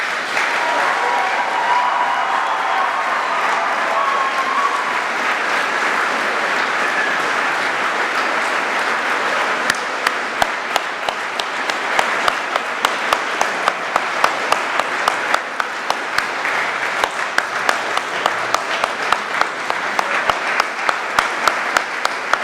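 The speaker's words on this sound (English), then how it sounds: "You've been generous with your applause. Let's give it to them one more time." An audience applauds the 2018 Order of Manitoba recipients at an investiture ceremony with sustained, dense clapping from a large crowd that stays even and loud throughout, with sharper individual claps standing out in the later part.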